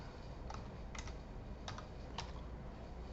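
Quick bursts of keystrokes on a computer keyboard, a few soft, close clicks in an irregular rhythm over a quiet background hiss.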